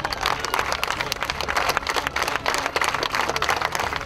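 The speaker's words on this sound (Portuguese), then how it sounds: "mais aplausos." Mourners applauding at a lawyer's funeral in Manaus just before the burial, a steady, dense wash of clapping from a crowd outdoors with no talk.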